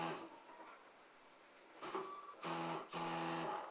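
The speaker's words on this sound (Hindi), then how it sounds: "अब यहाँ पर सिलाई लगाएंगे।" A sewing machine hems lining pants in a few short, faint whirring bursts that grow steadier toward the end, heard close in a quiet room.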